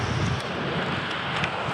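Blustery wind on the cold, wet Cornish coast near Penzance buffets the microphone in steady low rumbling gusts, with a broad hiss over the top, loud and continuous with no voices.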